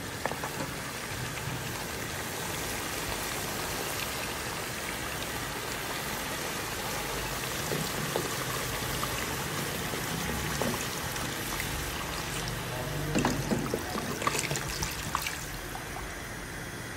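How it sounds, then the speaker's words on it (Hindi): Two liters of water poured into a pot of browned beef and whole spices, a continuous close splashing and bubbling rush that holds steady for many seconds and grows a little busier near the end. "अब इसमें हम शामिल करेंगे 2 लीटर पानी।"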